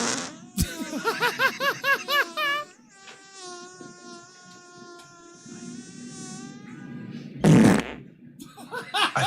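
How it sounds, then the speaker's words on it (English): A loud, drawn-out fart with a buzzing, wavering tone opens a comedy live show, followed by a sustained reedy drone and a short sharp burst near the end. "I think I just farted."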